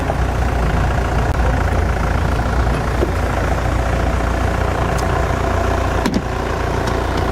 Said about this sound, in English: the Mahindra sounds not unlike a great bevy of tractors